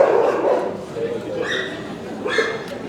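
On the island of Sylt, a dog gives a couple of short yips and barks at moderate distance beneath people talking nearby.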